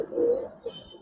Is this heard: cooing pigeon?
yes